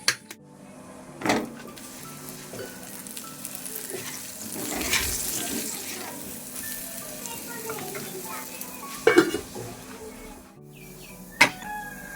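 Potatoes, pointed gourd, onion, garlic and nigella seeds sizzle in a worn nonstick wok, with a continuous frying crackle broken by a few sharp clanks and scrapes of a spatula stirring the pan.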